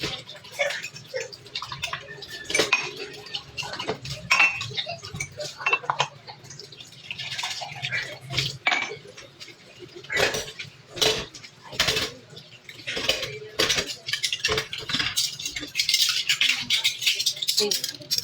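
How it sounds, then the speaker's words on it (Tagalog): Plates and spoons being washed, with irregular clinks, clatters and rattles of dishes and cutlery alongside running water, loud and close, with occasional talk. "Hugasin mo na natin yung plato dito. Plato, mga kutsara kasi kung nakalat."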